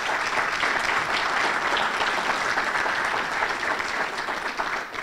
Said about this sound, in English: Let's give George one more round of applause.